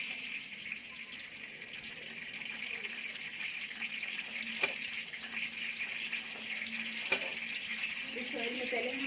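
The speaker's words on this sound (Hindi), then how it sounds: "इस ऑयल में पहले हम प्याज को फ्राई कर लेंगे सारा" Onions frying in oil in a large pot for a 5 kg chicken biryani, a steady soft sizzle and hiss running evenly throughout with a few faint clinks, no talk over it.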